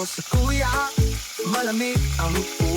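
Ginger and lemongrass hit a hot wok and sizzle loudly and close by, with repeated stirring and scraping strokes cutting through the steady frying.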